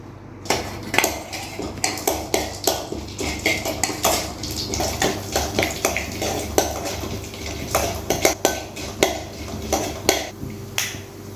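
Black pepper and cumin crackle and pop in hot sesame oil, with scattered sharp clicks and the scrape of stirring against a pan, no voices.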